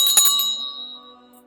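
Notification bell sound effect: a bright, close metallic ding struck two or three times in quick succession, leaving a clear ringing tone that slowly fades out.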